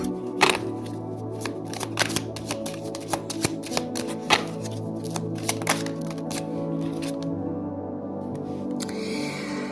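Tarot cards shuffled by hand, a quick series of crisp riffling snaps and flicks at close range, irregular bursts that settle toward the end.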